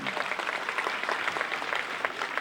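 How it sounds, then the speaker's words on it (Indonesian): An audience at a school inauguration ceremony in Aceh applauds, a steady, fairly faint patter of many hands clapping together heard from a distance for a couple of seconds. "Kita berikan tepuk tangan kepada Ibu Sofyan Jalil."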